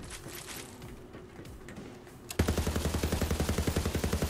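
Rapid SMG gunfire in Borderlands 3 erupts suddenly after a quieter stretch, a loud, steady burst of evenly spaced shots firing in quick succession until the end.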